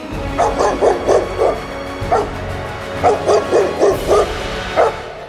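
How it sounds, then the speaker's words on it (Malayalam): A dog barks in quick bursts of several yips, pausing briefly before another run of sharp barks, fairly close and loud. "കുരച്ചുകൊണ്ട് ബഹളമുണ്ടാക്കി"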